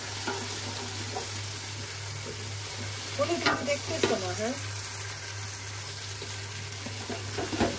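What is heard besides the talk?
ginger and garlic paste frying in a pan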